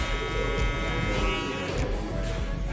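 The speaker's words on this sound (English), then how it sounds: "We'll grab our trimmers once again." Electric hair trimmers buzz steadily up close while cutting a taper fade, a continuous humming drone with slight changes as the blades move through hair.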